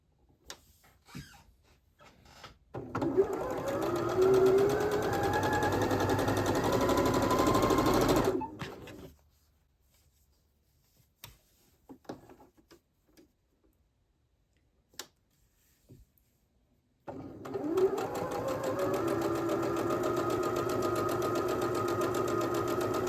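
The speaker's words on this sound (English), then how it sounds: "And now we're going to stitch a 1/4 inch down both sides." A sewing machine stitches a quarter-inch seam down a Jacob's Ladder sampler quilt block. There are two steady, loud runs of rapid stitching, separated by a quieter pause with light handling clicks.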